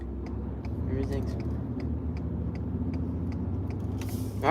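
A farm truck cruising down the road, steady low engine rumble and road noise inside the cab with faint ticking, and a person talking over it near the end.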